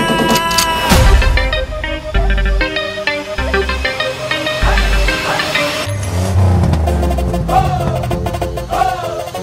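A car engine revs in loud bursts inside a reggaeton DJ mix, with the roaring swells layered over pounding bass and synth music.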